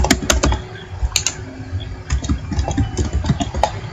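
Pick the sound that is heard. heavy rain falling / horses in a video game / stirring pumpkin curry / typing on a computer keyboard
typing on a computer keyboard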